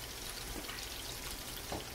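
Wild channel catfish nuggets in batter fry in a pan of Crisco soybean and peanut oil, giving a steady, faint, even crackling sizzle with no talk.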